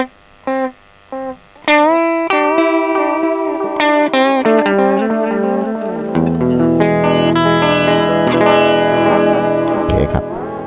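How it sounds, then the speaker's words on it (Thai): A guitar runs through a Pedaltank Time Capsule 2 delay pedal set to its longest delay time, with picked notes and chords repeating as spaced echoes that build into a loud, layered wash with a distorted edge. "ครับช่วงค่าไทม์ค่าหน่วงเยอะสุดเนี่ยก็คือได้ห่างประมาณนี้นะครับผม"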